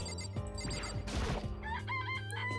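Cartoonish chicken clucks and a crowing call from Danganronpa: Trigger Happy Havoc sound over a steady low game backdrop, with a noisy burst mid-clip and a rising run of clucks near the end.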